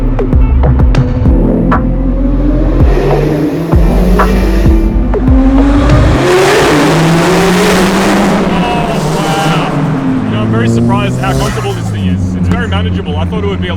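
A Lamborghini engine revs loud and close as the car accelerates hard, its rising, throbbing drone climbing and shifting pitch. People talk over the engine throughout.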